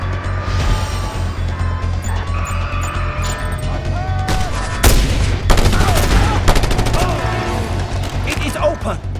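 Rapid gunfire and explosions from the Just Cause 2 video game during a harbor assault, loud continuous bursts with heavier blasts midway, with game characters shouting over the shooting.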